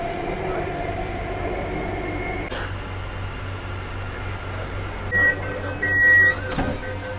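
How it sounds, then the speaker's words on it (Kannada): Bengaluru's driverless Yellow Line metro train running, with a steady low rumble and hum of the moving carriage, a shift in tone midway and brief higher whines and clatter near the end. "ಫಸ್ಟ್ ಟೈಮ್ ನಾನು ಟ್ರಾವೆಲ್ ಮಾಡ್ತಿದ್ದು ಎಲ್ಲೋ ಲೈನ್ ಮೆಟ್ರೋ ಅಲ್ಲಿ"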